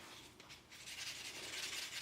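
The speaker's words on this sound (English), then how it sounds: "So I'm going to give this some more sanding." Steady abrasive rasping of sanding on a metal coin ring, continuous and close, with slight surges in intensity and no talking.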